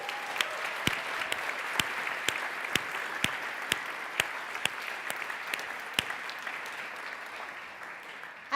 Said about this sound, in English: Can they please all have another round of applause?